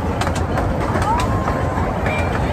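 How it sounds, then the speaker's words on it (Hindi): Inside a Rajdhani Express train, a steady rumbling interior noise runs throughout with faint clicks and a few soft squeals, a continuous moderate background with no clear talk. "अब राजधानी एक्सप्रेस में बैठ चुके हैं"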